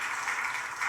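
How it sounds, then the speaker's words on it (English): Applause from a small gathering during a gaming-chair giveaway, a brief, faint wash of hands clapping heard at a distance, continuous for its short length with no voices over it. "I don't know if you guys can hear the applause"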